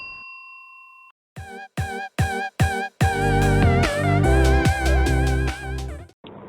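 A short electronic chime is followed by a quick series of bright, ringing notification bell strikes that build into a sustained shimmering ding, loud and clear.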